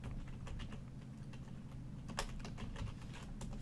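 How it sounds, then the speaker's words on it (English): Fast, light clicking of computer keyboard keys, a quiet steady run of keystrokes with a few sharper taps, heard close with no talking. "I can type here. I'm offset from my keyboard."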